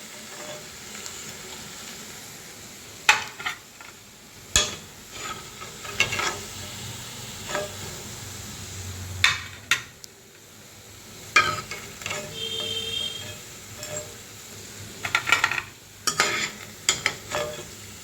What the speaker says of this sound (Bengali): এখন মাঝারিতে এগুলো একটু ভাজবে, হয়তো একটু দেরি হবে কিন্তু ভাজাগুলো ভালো হবে।